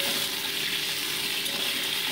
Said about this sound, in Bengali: এবার তেলের ওপরে দিয়ে দিচ্ছি আমি গোটা জিরে ফোড়ন, তারপরে অ্যাড করে দিচ্ছি কেটে রাখা লম্বা উচ্ছে টুকরোগুলো।